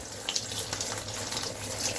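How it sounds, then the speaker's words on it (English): Water streaming steadily into a washing machine tub through a freshly cleaned inlet filter, a constant close hiss and gush that runs without a break, with no talking. "see how fast and steady the flow of water to the tub is"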